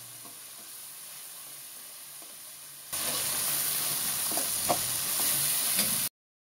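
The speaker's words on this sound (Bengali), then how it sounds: "কাঁচা গন্ধ যাওয়া পর্যন্ত মশলাটাকে ভেজে নেব।" Ginger garlic paste fries in a pan for a chicken curry, giving a steady sizzling hiss that turns louder partway through and then cuts off abruptly.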